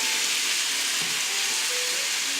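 Cheeseburger patties hit a hot pan and sizzle in a loud, steady hiss of frying with a faint clunk partway through.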